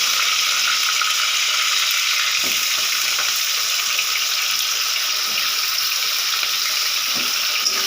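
Chopped onion frying in a pan with whole garam masala and cumin for a Bengali chicken curry, a steady, close, bright sizzle hissing without pause, with a few soft stirring scrapes.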